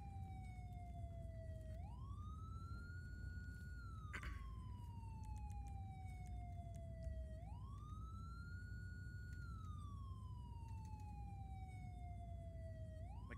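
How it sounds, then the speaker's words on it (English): A video game police car siren wails steadily, rising and falling in long repeating sweeps over a constant low engine hum, with no voices. "my siren's getting very annoying"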